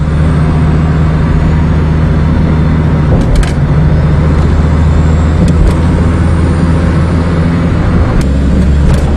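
A car drives along with a loud, steady engine and road drone filling the whole stretch, broken by a few brief clicks and a shift in engine tone near the end as gears change.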